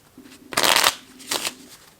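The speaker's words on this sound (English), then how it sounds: "Put the 6 back in the deck and shuffle for draw number 3." Two quick riffles of playing cards being shuffled, a longer burst followed by a shorter one, close and crisp against a quiet room.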